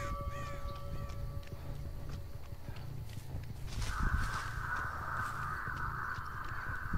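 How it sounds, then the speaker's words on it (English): Disturbed crows cawing in Dead by Daylight, a few harsh caws early on, then a rising flutter and a sustained squawking flurry over low thudding footsteps. "And they're over here because the birds have been disturbed."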